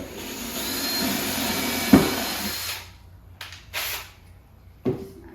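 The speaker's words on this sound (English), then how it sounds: "I'm going to drill straight down." A power drill whirs steadily for a few seconds, drilling straight down into wood, then cuts off, followed by a couple of short knocks and clunks.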